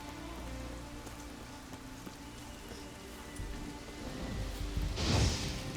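Steady in-game rain in The Witcher 3 patters on surfaces in a quiet, continuous hiss, swelling near the end with a brief louder burst.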